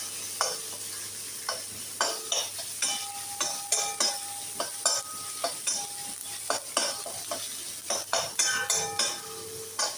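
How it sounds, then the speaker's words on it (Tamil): Green chillies and curry leaves sautéing in oil for a spicy crab curry, with a steady sizzle under rhythmic metal spoon scrapes and clinks against the pan, close up and without speech. "பச்சை மிளகா, இது கருவேப்பிலை ஒரு கை கொத்து, பச்சை மிளகா, இதை அப்படியே நம்ம போட்டு வதக்கிடலாம்"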